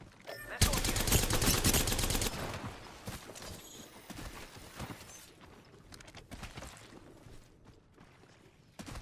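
Rapid automatic gunfire in the Apex Legends battle royale game, a loud dense burst of repeated shots for the first two seconds, then scattered distant shots and game effects under the continuing din.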